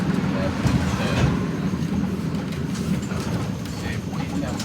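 Tram running along its tracks at a street intersection, a steady low rumble with faint clicking from the rails, close and continuous, with people talking over it.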